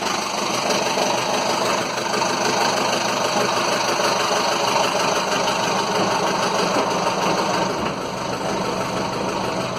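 A cold boat engine on a Nelson 34 idles steadily at low revs, a continuous rumbling drone with a faint knocking texture, close and loud for the whole stretch.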